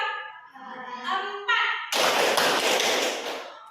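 In a classroom counted-clap routine, a voice speaks briefly, then a sudden loud burst of many hands clapping together follows and rings on for nearly two seconds.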